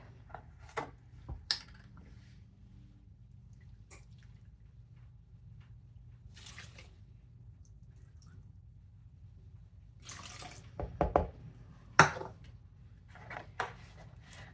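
Milk being poured into a breakfast mixture with cinnamon, heard as soft intermittent liquid splashes and drips with a few sharper clinks against a container, quiet and close, without talking.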